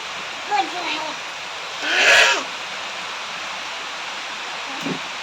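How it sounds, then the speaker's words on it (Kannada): Heavy rain pours down in a steady, even hiss, with a brief voice and a short louder burst near the start. "ಮಳೆ ಕೂಡ ಜೋರು ಸ್ಟಾರ್ಟ್ ಆಯಿತು."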